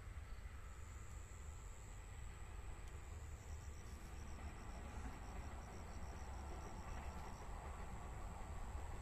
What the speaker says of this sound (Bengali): ওই দেখো ওখানে ট্রেন যাচ্ছে